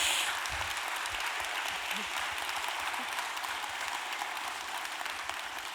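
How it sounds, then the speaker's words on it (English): Conference audience applauding speakers at a convention bureau afternoon event, steady dense clapping at moderate level throughout, even and sustained with no voices over it. "Please, one more round of applause for them as well"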